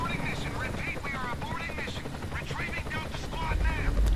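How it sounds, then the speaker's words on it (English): A Gears of War helicopter beats steadily in the background, a continuous rotor throb mixed with game sound effects and occasional bursts, while voices talk over it. "Helicopter."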